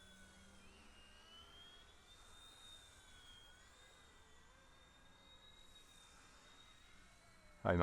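An ERA C129 V2 radio-controlled helicopter in flight gives off a faint, steady high-pitched motor whine whose pitch wavers as it maneuvers, ending in a sudden loud knock.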